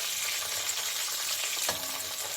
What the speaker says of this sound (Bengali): ছিটকাচ্ছে, যে ডিমগুলো আছে ডিমগুলোই ফুটে, চামড়া ফুটবে, ডিম ফুটবে